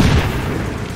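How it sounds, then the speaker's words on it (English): A grenade blast in the video game XCOM 2 gives a loud, booming explosion with a heavy low-end thump that fades into a rumbling wash. "Explosion!"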